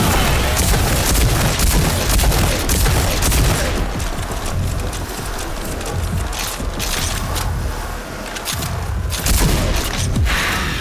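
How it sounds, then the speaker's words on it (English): Combat shotgun in overdrive mode firing at simulated enemies in RAGE 2, a dense barrage of loud blasts and booms that continues throughout. "Use the combat shotgun's overdrive against the simulated enemies."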